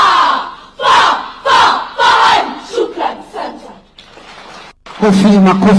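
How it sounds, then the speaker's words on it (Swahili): An audience at a national drama festival in Nakuru cheers and shouts in loud repeated bursts, a voice speaking over the crowd between the swells. "Makofi mazuri."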